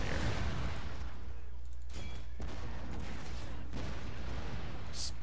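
Musket volleys in the battle game Shogun 2 Total War, with dense crackling gunfire and booming reports over a steady roar of battle noise, and several sharper volleys standing out in turn.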